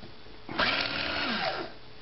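A semi-automated benchtop capper-decapper unscrewing the cap from a 50 mL lab tube gives a short mechanical whir lasting about a second, starting abruptly and cutting off cleanly against a quiet, hissy background.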